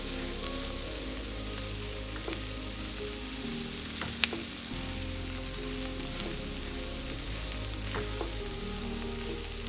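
Food sautéing in an older pot makes a continuous soft sizzle and crackle, with a few sharp clinks and scrapes of stirring scattered through.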